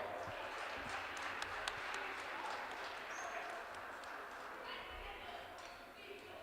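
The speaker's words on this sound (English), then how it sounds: "Let's give both these teams and their coaching staffs a big round of applause." A gym crowd at a varsity girls' basketball game between Washington Court House and Western Brown gives both teams and their coaching staffs a round of applause, a faint, distant, steady patter of clapping with a few sharper claps that slowly tapers.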